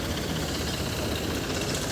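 A 2008-model tractor with a double lift pump, side gear and power steering idles at the Malout tractor market in Punjab, a steady low diesel rumble with a constant even drone throughout.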